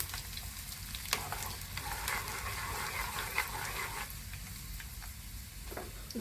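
Cumin and other spices sizzling steadily in hot oil for a village-style mango pickle, a constant close frying hiss with occasional stirring clinks, no talking.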